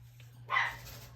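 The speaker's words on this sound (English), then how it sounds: "that's my dog." A dog gives one short, clear bark from nearby indoors, set over a steady low hum with no other sounds around it.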